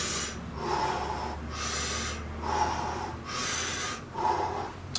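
A person does a staccato breathing exercise: sharp, forceful nasal breaths repeat in a steady rhythm of about four bursts in five seconds, close and clear, with no talking.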